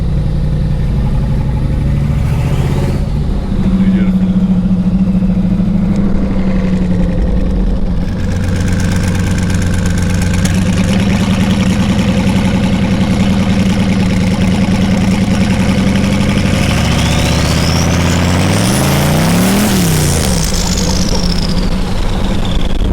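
A car engine roars loudly and continuously through a wheel-smoking burnout, holding a steady rumbling note and then sweeping up sharply in revs and back down near the end. It stays close and fills the whole stretch.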